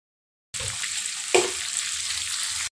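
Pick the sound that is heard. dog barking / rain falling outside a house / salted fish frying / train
salted fish frying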